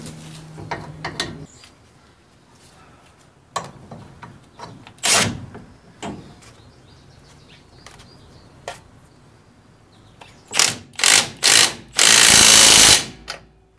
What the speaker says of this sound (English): So now, take our impact gun,